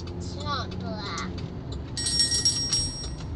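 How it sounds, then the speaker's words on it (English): A small bell ringing indoors, bright metallic tones in a short burst near the end, heard alongside faint chatter and squeaky sounds. "Why is your bell ringing?"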